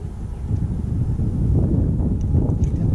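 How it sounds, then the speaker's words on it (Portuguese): Wind blows steadily around a fishing boat out on the water, a continuous low rumbling rush with buffeting against the microphone and no voices. "Onde o vento tá me levando?"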